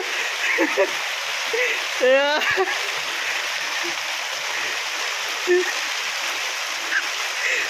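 Steady heavy rain falls in Kokan, an even broadband wash of water lasting the whole stretch, with only brief scattered voices and one short tonal call breaking through.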